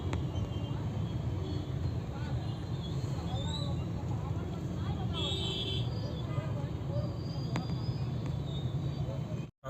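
A heavy traffic jam on a rain-soaked road between Jubilee Hills and Indiranagar in Hyderabad makes a steady rumble of idling engines. A murmur of voices runs under it, and a few brief horn toots break through.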